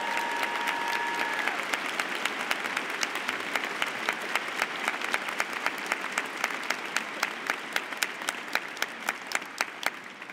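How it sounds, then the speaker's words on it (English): An audience at a University of Michigan psychology commencement ceremony claps in sustained, moderately loud applause, with individual sharp claps standing out as it thins toward the end. "please join me in a hearty round of applause to congratulate them all"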